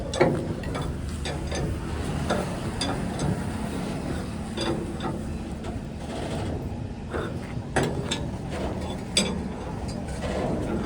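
Tools work on the suspension bed bolt of a truck being repaired, with irregular metallic ratcheting clicks and clinks over a steady low mechanical drone, fairly close and without talk.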